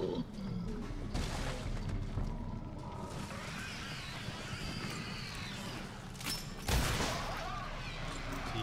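Gunshots ring out in Resident Evil 7 Not A Hero, a couple of sharp cracks set in a low, muffled game soundscape with people talking over it.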